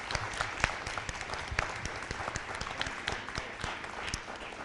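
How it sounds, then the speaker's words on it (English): Audience at a board candidate forum applauds, a thinner, fairly quiet spread of individual claps with some distinct sharp hand strikes standing out, steady for a few seconds without speech. "And let's give them a round of applause."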